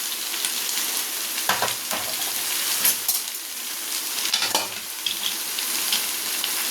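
Coriander leaves sautéing gently on low heat in a pan for homemade coriander thokku, a steady soft sizzle with occasional stirring scrapes and crackles, close and continuous, no talking.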